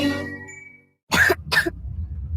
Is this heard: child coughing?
yes